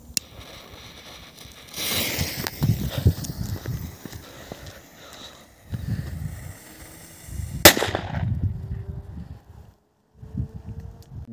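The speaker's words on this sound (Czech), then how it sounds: "Petarda Salute." A Salute firecracker goes off with one sharp crack late in the clip. It comes after several seconds of footsteps and rustling, and a short rumble trails after it.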